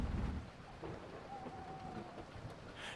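Heavy rain pours down in a film scene, with a low rumble of thunder at the start and a steady wash of rainfall continuing throughout at moderate volume.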